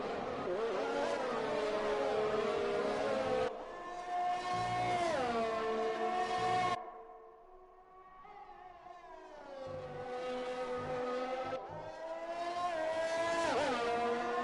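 F1 2020 race cars pulling away after a safety car period at the Australian round, loud rising engine whines climbing through gears in two long bursts, a brief quieter dip, then renewed high-pitched revving.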